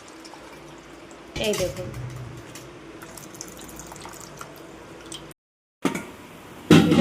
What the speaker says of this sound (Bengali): এভাবে চেপে চেপে দুধটা বার করে নিতে হবে। ছেঁকে নিচ্ছে